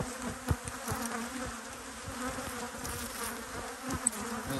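Honey bees buzz steadily inside an opened hive at an apiary during late-season harvest time with goldenrod blooming, a dense continuous drone with a few louder passes near the listener.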